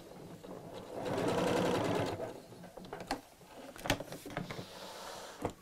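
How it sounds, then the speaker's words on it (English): A sewing machine runs a short burst of stitching around a circular seam on a fabric gift bag, whirring for about a second, then giving a few scattered clicks and mechanical taps. "And just carry on sewing in a circle"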